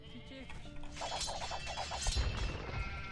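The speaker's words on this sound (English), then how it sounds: "I got more sheep." Sheep bleating in the Age of Empires 2 strategy game, a quick run of short, closely spaced bleats mixed into steady game sounds with a few thuds.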